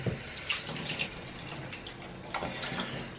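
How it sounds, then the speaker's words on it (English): Water runs steadily from a tap as a freshly caught sea trout or garfish is rinsed, a continuous splashing wash with a few brighter spatters near the start and again toward the end. "Rinse off the fish."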